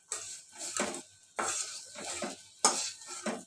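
Fried dried fish and green chillies scraped and lifted out of a pan with a spatula, three bursts of metal scraping and clatter with faint sizzle, close and fairly quiet.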